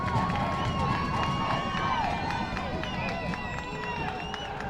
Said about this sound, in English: Crowd is into it.